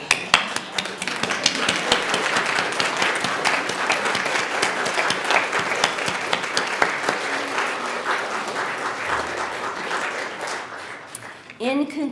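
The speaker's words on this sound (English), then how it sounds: "give an applaud, a standing ovation" An audience rises for a standing ovation, loud sustained applause with sharp individual claps close by, gradually thinning toward the end before a voice starts speaking.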